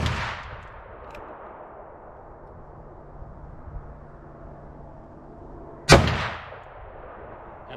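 Two heavy booming shots from a .41 Magnum Ruger Blackhawk revolver fitted with a Leupold scope, one at the very start and another about six seconds later, loud and close, each trailing into an echoing outdoor decay.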